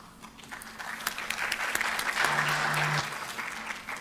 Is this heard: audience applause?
yes